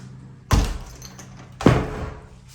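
A door in a 1987 Acadian-style house leading outside is handled, giving two solid, close thuds about a second apart with quiet room tone between and no talk.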